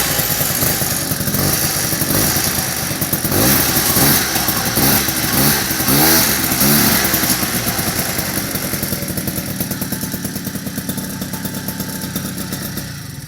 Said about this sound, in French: le moteur reste très silencieux, on n'entend que le bruit de la cartouche qui, elle, avec la laine de verre neuve, c'est vraiment un bruit très étouffé